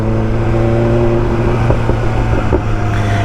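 A BMW M1000R motorcycle engine under way while riding in Race Pro 2 direct throttle mode, a loud close steady drone with a strong low hum and slight fluctuations in pitch.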